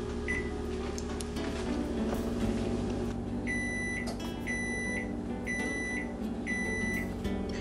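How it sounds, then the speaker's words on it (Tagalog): Several short electronic beeps from an oven timer being set to 14 minutes for molten lava cakes, repeating in quick bursts over a low hum of kitchen background noise. "isiset natin yung ating timer to 14 minutes."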